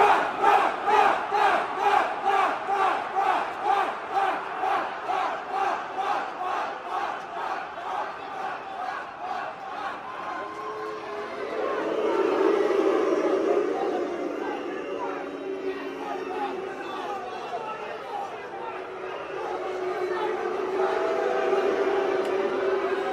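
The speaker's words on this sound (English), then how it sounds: "They're booing him." A football crowd at a Newcastle versus Liverpool Premier League match gives out a long, rolling roar of booing, pulsing rhythmically at first and then swelling into a broad, sustained wave of noise.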